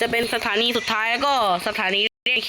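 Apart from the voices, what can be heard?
None of the usual background noises is heard.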